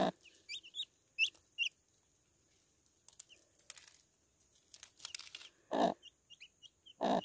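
Hen clucking near chicks at a small rural farm, soft repeated clucks mixed with high chick peeps in short bursts, with a few louder broadband knocks and rustles between them; no talking.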